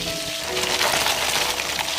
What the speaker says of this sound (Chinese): 爆香之后加入葱段、姜片，还有火锅底料